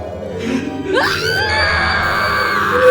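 A shrill, rising scream or yell in a horror cartoon story, climbing sharply about a second in and holding loud and strained over a dense, eerie background for the rest of the clip.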